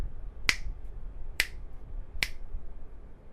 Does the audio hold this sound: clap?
yes